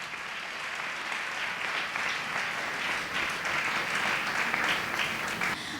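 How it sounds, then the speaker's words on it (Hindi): A church congregation claps and applauds steadily to welcome the pastor at a prayer service, a dense, sustained wash of hands that holds at an even level throughout. "हम पास्टर मैडम को तालियों के साथ स्वागत करते हैं।"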